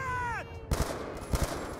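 Gunfire in Call of Duty: Black Ops 2: two short bursts of paired shots, the first sharp and close, the second following after a brief pause, over a tonal sweep at the start.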